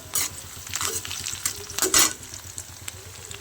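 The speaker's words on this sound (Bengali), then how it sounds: "কুচি করা পেঁয়াজ একটু নাড়াচাড়া করে নিতে হবে" Chopped onions hiss and crackle loudly in a hot pan while a utensil scrapes and stirs in quick, uneven strokes.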